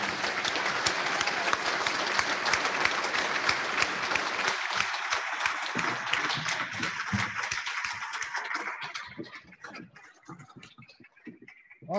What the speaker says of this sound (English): Would the rest of you please rise and applaud your fellow Rotarians